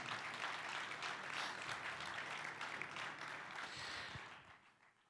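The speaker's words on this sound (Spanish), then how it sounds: "Fuerte ese aplauso de alabanza al Señor." A church congregation gives a sustained round of applause in praise, a dense wash of many hands clapping at a distance that fades out toward the end.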